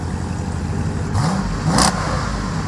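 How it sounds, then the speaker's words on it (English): A Jeep SRT engine blips up in two short revs, the second louder and sharper, over a steady background of engine rumble and outdoor noise. "Can you give it one rev?"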